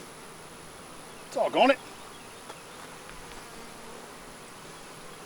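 A single honeybee buzzing loudly near the microphone around an opened backyard hive, a brief rising double burst of whine before fading to faint background hum, with a short muttered exclamation.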